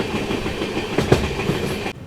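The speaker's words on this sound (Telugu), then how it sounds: "బండి అయితే ఇప్పుడు స్లోగా గూడూరు జంక్షన్లోకి అయితే ఎంటర్ అవ్వబోతుందండి" The Tamil Nadu SF Express rumbles along the rails as it slows toward Gudur Junction, a loud continuous rolling roar with a few sharper clacks of wheels over rail joints.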